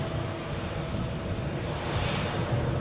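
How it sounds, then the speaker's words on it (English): An Embraer 145 regional jet at Edinburgh airport gives a steady, fairly faint engine roar with a broad hiss, continuous and unbroken throughout. "we will check out this Embraer 145"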